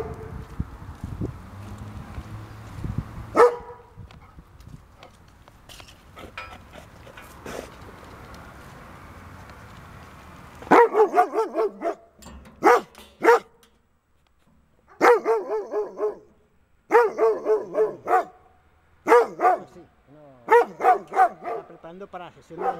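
Dogs bark in repeated bursts, several sharp yaps in quick clusters separated by short pauses, fairly close, after a stretch of quieter background.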